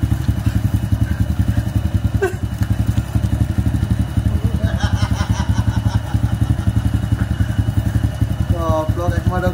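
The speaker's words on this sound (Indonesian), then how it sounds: "ini mah ada motor aing" A motorcycle engine idles close by with a loud, steady pulsing throb throughout, while voices and brief higher-pitched sounds come and go over it.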